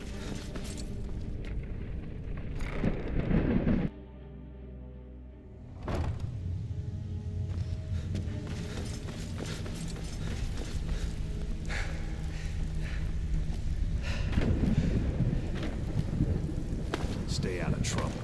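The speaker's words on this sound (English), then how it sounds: "You can hear the thunder and the lightning through the" Rumbling thunder and continuous rain in Skyrim with the Climates of Tamriel weather mod roll on steadily, broken by a brief muffled drop, while someone talks over much of it.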